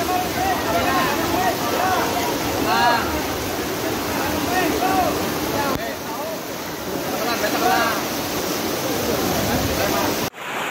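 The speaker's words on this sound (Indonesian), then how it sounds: "terjadi bencana banjir di Desa Jompo, di mana sungai meluap begitu derasnya" Floodwater of an overflowing river in Jompo village, Purbalingga, rushes in a steady, loud roar that fills the whole clip. Voices shout in the background partway through, and the roar drops out abruptly just before the end.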